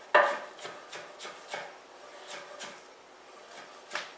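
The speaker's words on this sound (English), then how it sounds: "So then you chop this way." A knife chops ingredients for authentic Mexican salsa on a cutting board, about a dozen crisp close knocks in an uneven rhythm, the first one loudest, with no talk.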